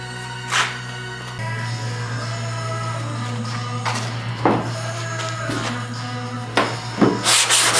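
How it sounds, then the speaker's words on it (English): Sanding block rubbed over the body panels of a 1994 Ford Mustang GT SN95 under restoration, giving a steady scraping hiss with a constant low hum behind it and several sharper strokes and knocks toward the end. "you sand it down with the block"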